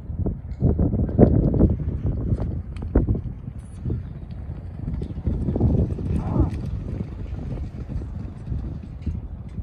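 A racehorse breezing three-eighths of a mile from the starting gate: hooves pound in a rapid, rumbling gallop amid gusting wind, while a voice talks over the noise.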